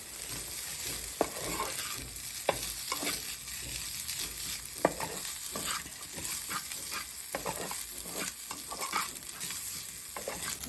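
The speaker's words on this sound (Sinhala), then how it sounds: "මේ වෙලාවේදී ඔයගොල්ලෝ නූඩල්ස් ටික හොඳට ටෙම්පරාදු කරගන්න ඕනේ." Previously cooked noodles being stir-fried in a pan make a continuous sizzle broken by repeated scraping and tossing strikes from the utensil, close and moderately loud throughout.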